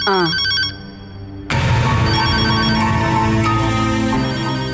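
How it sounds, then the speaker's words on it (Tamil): A telephone rings briefly at the start in a home scene from a Tamil television serial, then gives way to loud music and voices over a dense mix. "யார் ஃபோன் பண்ணான்னு போய் பாரு"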